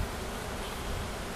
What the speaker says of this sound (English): Now, these bees are a big pile there, and then they dissipate through the hive